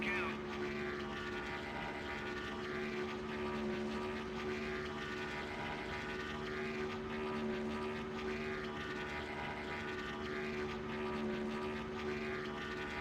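A race car engine in NASCAR Thunder 2003 drones at high RPM in a steady, unbroken tonal whine that holds without letup, with faint talk beneath it.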